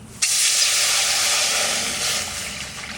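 Water poured into a hot wok (kadai) while cooking a jackfruit-seed dal, bursting into a loud, steady steaming hiss that starts abruptly and rushes on for nearly three seconds, with no talking.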